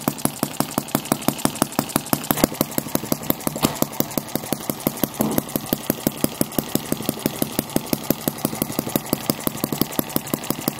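A 1cc model sideshaft engine with a duplex pump runs steadily, its rapid, even firing beats forming a continuous close mechanical chatter with no voices over it.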